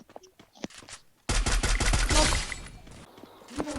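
Gunfire in a video game, a sudden loud burst of rapid shots and impacts that fades over about two seconds, with players' voices chattering faintly before and after.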